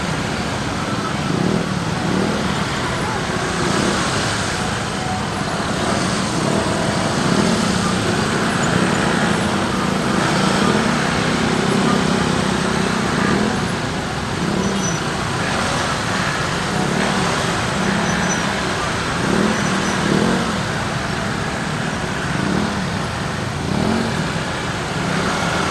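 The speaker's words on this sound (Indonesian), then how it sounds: "Macet jadinya di mana-mana nih." Dense city traffic in a jam on an urban road, heard from a motorbike: a steady, broad roar of car and bus engines with occasional revving, continuous and fairly loud throughout.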